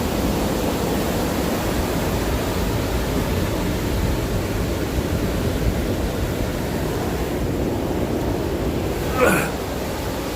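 Ocean surf rolls at a beach in Tijuana on a cold morning, a continuous broad wash of noise with little variation and a brief brighter swell near the end.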